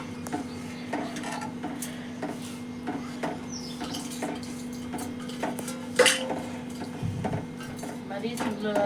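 Semiya is stirred in a pan as it thickens, with a spoon scraping and knocking against the metal in irregular strokes under a steady low hum, and people talk over it.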